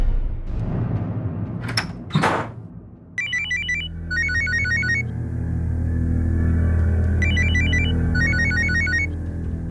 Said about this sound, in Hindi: भैया भैया आपका फोन बज रहा है।